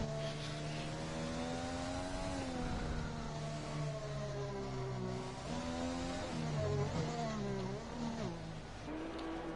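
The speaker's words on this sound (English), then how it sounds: "I'm sure the sound of that Honda engine is hurting everyone's ears." A Honda-powered Formula 3 race car screams past on a circuit in Vietnam, its engine note rising and falling through gear changes with a steady, loud, high-pitched whine for several seconds.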